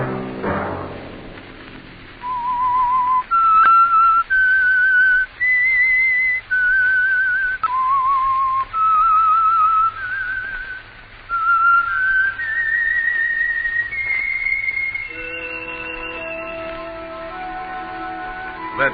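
A lone person whistles a slow, eerie melody for a radio program called The Whistler, sustained and clear, with sliding pitch. Near the end, soft orchestral music comes in underneath.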